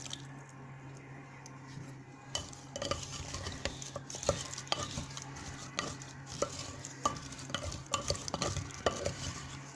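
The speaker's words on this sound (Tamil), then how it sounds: "இப்போ லெமன் ஜூஸ் ஊற்றிக்கலாம்." Lemon juice is poured into a batch of traditional Tamil lemon pickle (elumichai oorugai) that is then stirred, making a steady, close wet squishing and scraping with occasional clinks of a utensil against the container.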